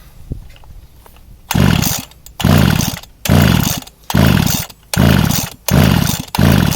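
A flooded chainsaw, switched off with the throttle held fully open, is pull-started repeatedly: six loud, rasping cranking bursts of about half a second each, separated by short pauses, close and alone.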